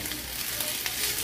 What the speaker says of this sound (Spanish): Y lo vamos a revolver en nuestro arrocito.